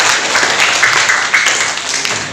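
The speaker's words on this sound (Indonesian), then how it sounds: "Tepuk tangan dulu dong." An audience breaks into applause, a dense steady patter of many hands clapping at moderate loudness for a couple of seconds without pause.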